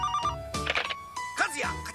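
A Bandai Terebi interactive VHS toy telephone from 1988 rings in repeated bright electronic bursts, close and clear, separated by short gaps with voices in between.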